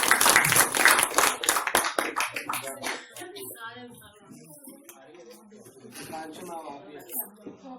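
An audience at an annual day anniversary celebration gives a burst of loud applause and clapping that fades into scattered claps and talk in the room.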